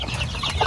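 Native chickens clucking near their shelter for chicks and roosters on a small farm, a brief close burst of soft clucks with no talking.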